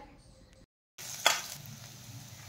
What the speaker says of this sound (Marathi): मिरची ही छान तळून घेऊयात